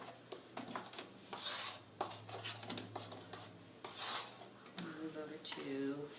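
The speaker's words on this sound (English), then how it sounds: "And now we stir." A utensil stirs ingredients in a mixing bowl, soft scraping and rubbing strokes in an uneven rhythm, faint and close, with a little quiet talk toward the end.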